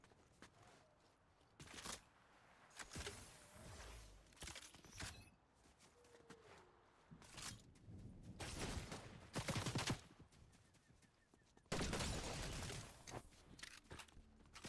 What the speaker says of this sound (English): I don't know where that shooting was coming from